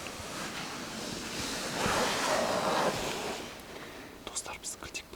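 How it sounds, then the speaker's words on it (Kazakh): Outdoor wind roars as a broad, rushing gust that swells to its strongest midway and then eases, with soft whispering voices coming in close to the microphone near the end. "Ей, жел."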